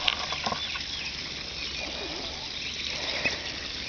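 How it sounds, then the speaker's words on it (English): Big six-week-old ducks flap their wings in a noisy flurry near the listener, with scattered quacks and a low rumble behind, no speech in this stretch. "Big ducks. Big ducks."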